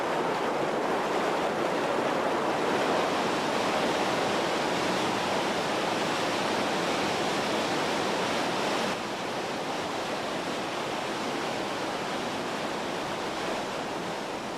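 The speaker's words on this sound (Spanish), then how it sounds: "las cataratas han encontrado un país perfecto, Noruega" Heavy, steady roar of Norwegian waterfalls pouring down into a fjord, a dense continuous wash of rushing water that dips slightly in level partway through, with no voices.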